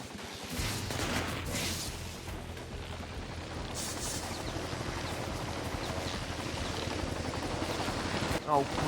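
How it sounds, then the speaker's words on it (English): Helicopter rotor drone from Infamous 2 game action, with bursts of gunfire and explosions layered over a dense, steady roar that carries on throughout. "Oh, great. Chopper."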